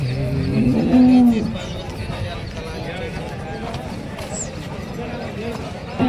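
Cattle of local breeds low and moo at a busy Sunday-morning cow market in Ranebennuru, the deep calls loudest near the start, under steady crowd chatter and people talking nearby.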